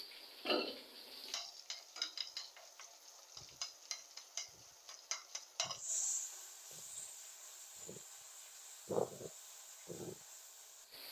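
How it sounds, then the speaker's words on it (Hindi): Cumin, black pepper, chili powder, crushed red chili and bay leaves fry in hot oil for matar pulao, giving soft intermittent sizzles with scattered clicks and stirring scrapes, fairly faint and without talk. "मसालों को हमने अच्छे से भून लिया।"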